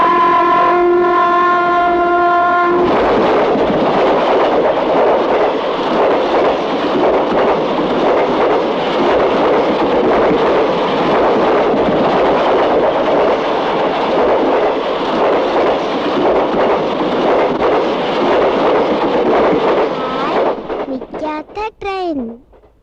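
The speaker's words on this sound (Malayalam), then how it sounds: "നിൽക്കാത്ത ട്രെയിൻ." An animated train from the Uncle Bun movie opens with a sustained horn-like tone, then rumbles and clatters steadily along the rails for nearly twenty seconds before the noise breaks up and fades out.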